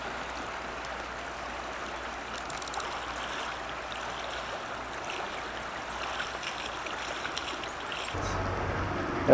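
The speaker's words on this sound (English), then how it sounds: "Now this is the Kenai River again." Kenai River water flowing, a steady broadband rush that stays even throughout and grows slightly louder toward the end.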